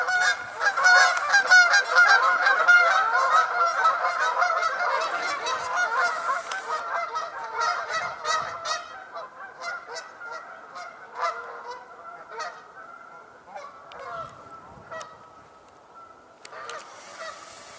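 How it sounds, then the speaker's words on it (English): A flock of Canada geese honks continuously outdoors at dusk, a dense chorus of many birds at first that thins to scattered honks, moderately distant. "we're seeing Canada geese more than anything else right now"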